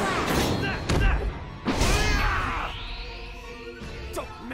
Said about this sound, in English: Executing shooting slash.